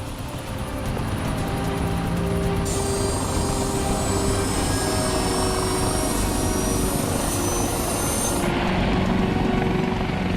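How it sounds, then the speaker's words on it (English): A rescue helicopter flies over a highway crash scene, its steady, loud rotor and engine drone running continuously and close throughout, with no talk. "With the chopper in the air"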